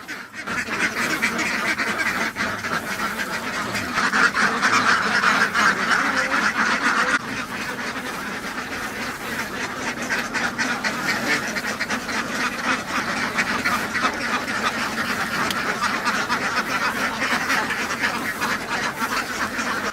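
A large flock of ducks on a duck farm in Vietnam quacks loudly and continuously. Dense, overlapping calls fill the scene for the whole stretch, with no voices.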